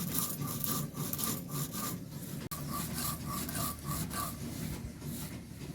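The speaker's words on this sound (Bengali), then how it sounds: "ভেজে রাখা ধনে আর জিরে গুঁড়ো করে নেব।" Roasted coriander and cumin seeds are ground by hand with quick, rhythmic scraping and rubbing strokes, close and fairly soft, with a brief pause midway.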